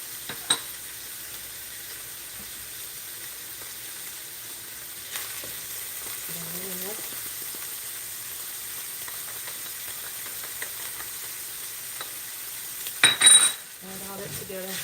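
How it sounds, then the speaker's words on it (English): Egg roll in a bowl being stir-fried in a pan: a quiet, steady sizzle with occasional utensil clinks and scrapes, and a louder clatter of the spatula near the end. "Add all that together, stir fry."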